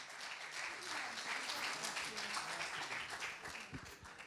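A studio audience applauds at a televised football awards show as a prize is handed over. The clapping is thick and continuous, swelling slightly and then tapering near the end.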